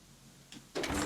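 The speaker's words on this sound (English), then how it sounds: "If this door will open" A door opens in the video game Fallout 76, a short mechanical click followed by a louder rising slide, heard close and on its own.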